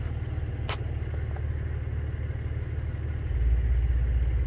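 A low, rumbling truck engine idles steadily in the distance near a railway siding, growing slightly louder toward the end, with a brief hiss partway through.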